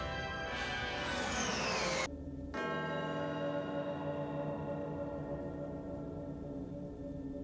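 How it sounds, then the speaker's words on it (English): A church bell from a One Piece anime episode rings out, a loud struck tone with a long shimmering decay, struck again after a brief break and left to fade on its own. "And then the bell rang."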